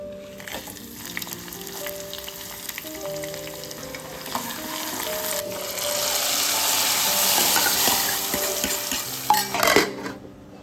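Spices crackle and sizzle in hot oil, the frying growing louder midway, with clinks of utensils and background music.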